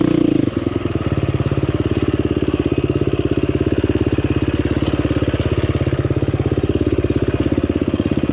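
A 2024 KTM 350XCF Factory Edition dirt bike engine pulls steadily under load while riding, a dense, rapid four-stroke thrum that holds close and loud throughout with a slight dip near the start.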